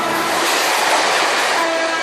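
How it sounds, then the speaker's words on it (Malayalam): A train rushes past close by with a loud, steady roar and a sustained horn blast running through the whole brief moment. "അതേത് ട്രെയിൻ പോയത്?"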